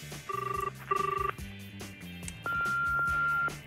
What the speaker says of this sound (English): I'm going to phone in my celebrity chum hacker T Dog.